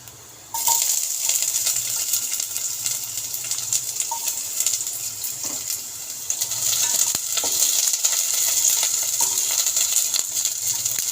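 Garlic sizzling in hot cooking oil in a pan for Filipino chicken tinola, a steady loud crackle and hiss with small pops, running continuously.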